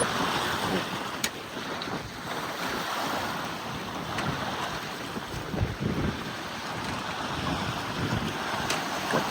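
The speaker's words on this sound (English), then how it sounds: "And we're sailing out of Bahia Santa Maria." A sailboat runs under sail out of Bahia Santa Maria at about 5 knots, with continuous wind buffeting the microphone and water rushing and splashing along the hull.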